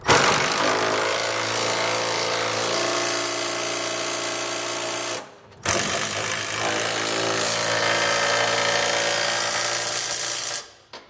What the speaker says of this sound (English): we'll come back and tighten down these two bolts